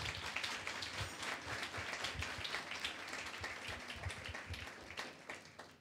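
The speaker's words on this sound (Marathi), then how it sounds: "जोरात टाळ्या वाजवा" Church congregation at an Easter Sunday service clapping together in a loud, rhythmic burst of applause, steady throughout without talk.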